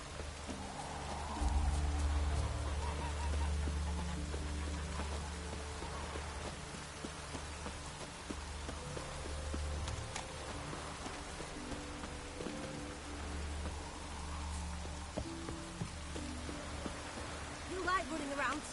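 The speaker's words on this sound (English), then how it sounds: "Rains like this come sowing time." Steady rainfall in The Witcher 3 game, a soft continuous patter on surfaces with low background music underneath and occasional faint speech.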